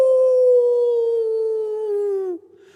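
A long, steady howl of a tied-up dog, apparently voiced by a person imitating the animal, holds one wavering note for over two seconds and then breaks off abruptly.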